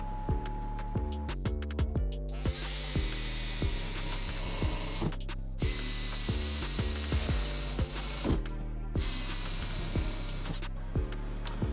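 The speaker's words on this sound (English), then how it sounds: "I'm going to use a 5/16 drill bit to put the holes in." A power drill with a 5/16 bit bores bolt holes for mounting an ATV winch, whining in several separate bursts with short pauses and knocks between them, close and clear.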